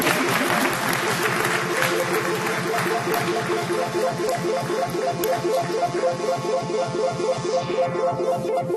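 Audience applause for a volunteer at a live magic show, a steady dense patter of clapping that carries on without a break from start to finish, with a rhythmic pulsing under it and no talk over it.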